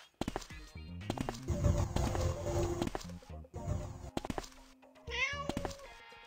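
In the mobile game PK XD, a cat meows amid thumping steps and clattering game sounds, with bursts of movement noise and a rising meow near the end.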